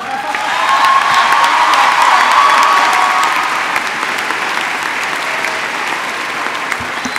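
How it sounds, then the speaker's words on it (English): Crowd at a university undergraduate commencement ceremony applauding, loud sustained clapping with a few cheers and whoops, gradually easing off toward the end. "thank you again for your heartfelt applause"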